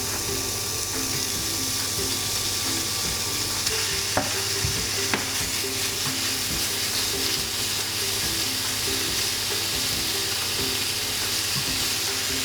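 Pork rib pieces sautéing without oil in a pan over medium-high heat, a steady dense sizzle throughout with occasional light clicks of a utensil, close and even.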